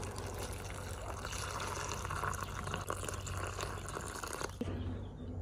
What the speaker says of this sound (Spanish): nosotras servimos agua antes de agregarle a los tamalitos